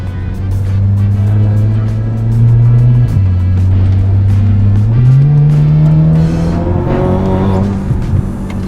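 Audi S3 Quattro Stage 4 with all-wheel drive accelerating hard, a loud close engine roar climbing in pitch through several gear changes with brief dips between them, no talk over it.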